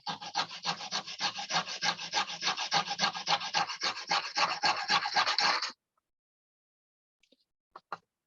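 Jewellery setting tool being sharpened on a small lap, a rapid, steady back-and-forth rasping stroke for about six seconds, close and clear, then silence broken by a few faint ticks.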